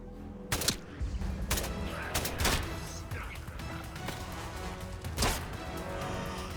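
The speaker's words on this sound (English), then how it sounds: "Who is shooting?" Scattered gunshots from unseen shooters in the video game Atomfall, several loud cracks landing irregularly over a dense, rumbling background with no voices.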